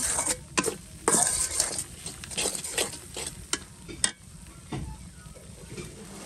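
Spicy masala frying in a pan for a meat curry, a steady sizzle broken by repeated scrapes and clinks of a spatula stirring against the metal, close and fairly loud.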